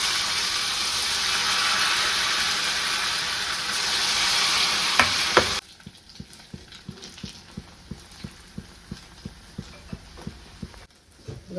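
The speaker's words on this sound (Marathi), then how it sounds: "आपण बघूया आता तळून घेऊया" Sabudana pakoras deep fry in hot oil, first as a loud, dense, bubbling sizzle, which then drops to a quieter crackle with a run of regular, evenly spaced taps and clicks.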